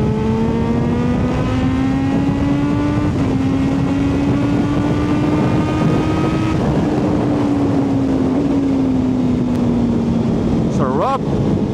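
A big bike motorcycle speeding along a road on a group breakfast ride in Batangas, its engine droning steadily with rising and falling pitch and loud wind rush throughout.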